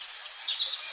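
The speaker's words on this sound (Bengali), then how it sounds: "সকাল হলো পাখির ডাকে," Cartoon birds calling at morning in a village, a run of short high chirps and tweets that keep going alone for about a second, light and moderately loud with no other sound.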